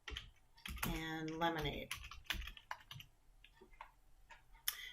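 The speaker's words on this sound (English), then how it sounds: "we're going to type in some beverages" Light, rapid keyboard clicks run through a short stretch close by, quiet and irregular, while a voice speaks briefly over the first part.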